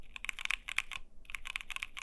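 Rapid clicking keystrokes on a mechanical keyboard fitted with O-rings, close and fairly quiet, in two quick bursts separated by a brief pause.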